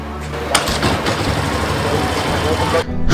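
Yamaha motorcycle engine catching after a push start and clutch dump on a low battery, a loud rough burst of engine noise running and sputtering, then a brief drop before it picks up again, with a voice talking over it.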